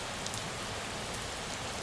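Soft, steady rain patters continuously at a low level, an even wash of drops with no voices and no breaks.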